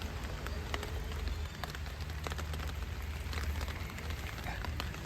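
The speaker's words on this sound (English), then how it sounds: "Is it just raining in Amsterdam?" Rain falls in the Levantkade neighbourhood of Amsterdam as a soft, steady patter with scattered close drop ticks, quiet and continuous, with no talking.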